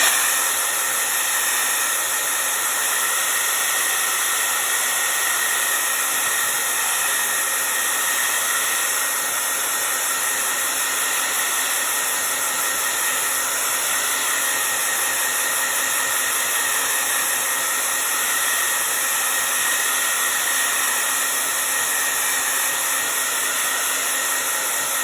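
A hair dryer blows steadily at close range for the whole stretch, drying paint on a craft sea turtle shell, producing a constant loud airy roar with a high whine and no talk.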